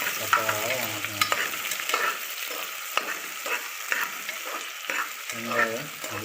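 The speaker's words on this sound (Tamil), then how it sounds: "வெங்காயம் நல்லா வணங்கணும்." Chopped onions sizzle in hot oil in a home kitchen pan for biryani, with repeated scraping stirs of a spatula over a continuous soft frying hiss.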